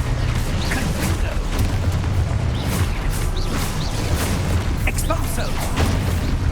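Spell explosions from combat in the Hogwarts Legacy video game, a dense run of booming blasts and magical bursts in quick succession, with a voice calling out spells between them.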